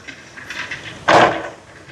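A pot holding eggs and coconut oil set down on a stove, one clear knocking clunk of metal on the burner, close and fairly loud, after a brief quiet rustle.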